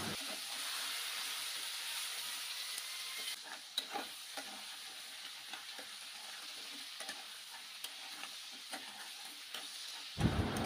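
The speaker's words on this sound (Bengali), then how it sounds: "এখন এগুলো আমি ভেজে নিচ্ছি" Crabs rubbed with salt and turmeric fry in mustard oil in a wok, giving a steady, close hiss of sizzling oil with scattered small pops and clicks. A louder knock comes at the end, and no one speaks.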